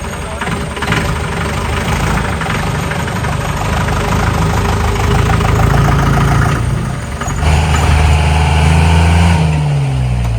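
An off-road vehicle's engine idles steadily on a hilltop while a tow rope is rigged, a continuous, loud, low rumble that holds for the whole stretch with no voices.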